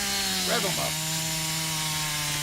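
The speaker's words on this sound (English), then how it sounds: "Rev up them chainsaws." A chainsaw engine drones in a steady, buzzing rev as a loud sound effect, with a brief voice-like warble near the start.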